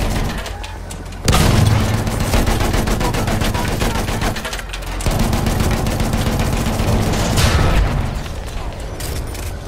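Battlefield 1 machine gun fire in a match with an anti-aircraft gun and tanks, loud and close: dense rapid bursts that run almost continuously with brief gaps, booming impacts mixed in and voices calling out beneath.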